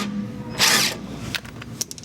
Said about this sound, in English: We're going to use an 18mm socket and an 18mm box wrench as our counter hold, and we're just gonna break it free